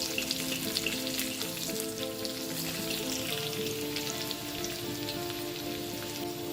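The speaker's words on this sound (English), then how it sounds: "Let's now saute the garlic until it turns fragrant." Garlic sautés in a pan with a dense, even crackle and sizzle throughout, fairly close, while faint tonal background sounds hum beneath.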